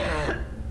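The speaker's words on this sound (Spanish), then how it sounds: "El problema de la tos sigue empeorando." A single short, close cough, rough and throaty, ending quickly.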